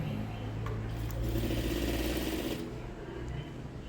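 Sewing machine running a 1 cm seam on a sheath dress, a quiet continuous motorized whir with a faint rapid stitching chatter that swells briefly mid-clip and then eases.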